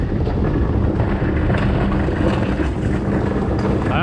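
Class 2 HGV lorry driven on UK roads, a steady loud low engine drone with road and wind rumble heard from inside the cab, no talking.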